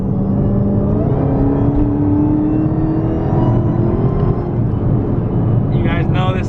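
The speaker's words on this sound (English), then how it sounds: "Quick little whine for you guys. Anyone enthusiastic about an SRT Hellcat?" An SRT Hellcat engine whines steadily while driving, a smooth rising tone over a loud, constant road rumble, with the car close by.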